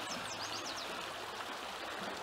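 The Verde River flows along the Black Canyon access stretch, a constant broad rushing and gurgling of water, steady and moderately near, with a few bird chirps high above it.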